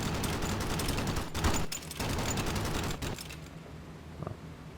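Rapid bursts of machine-gun fire from B-17 Flying Fortress waste gunners shooting at attacking fighters in a flight combat game, dense and continuous, then thinning and fading out near the end.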